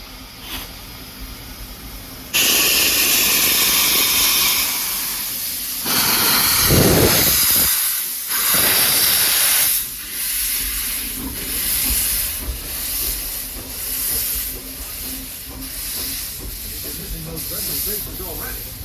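Walt Disney World Railroad steam train at the Magic Kingdom releasing loud bursts of hissing steam, with a strong blast in the middle, then rhythmic chuffing and clatter as it moves, with announcements spoken over it.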